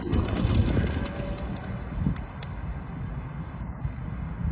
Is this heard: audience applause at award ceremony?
no